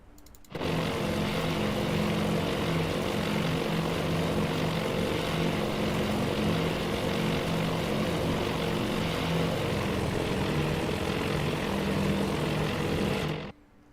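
Steady droning roar of bomber aircraft propeller engines in the naval strategy game Task Force Admiral, loud and continuous, with a sharp start and cutoff and no voices.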